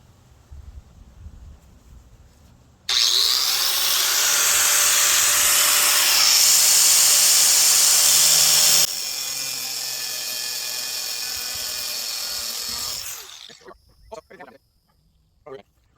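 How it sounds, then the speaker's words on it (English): A loud, harsh power tool grinds through metal for about ten seconds, pitch shifting midway, then winds down to clanks and knocks. "here's some of my quality, super safe OSHA regulation metal cutting"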